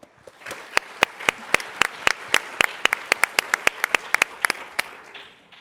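A small group clapping at a startup pitch competition, heard as sharp, distinct hand claps in a brisk regular rhythm, fairly close, tapering off near the end rather than a dense ovation.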